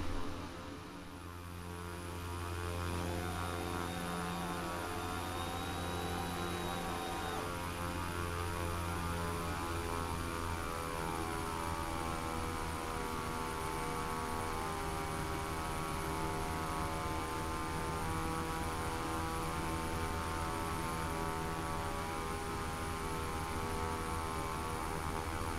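Steady propeller aircraft drone at Nantucket airport, a loud continuous engine hum with mechanical tones holding level throughout, likely heard from inside the cockpit on approach to land.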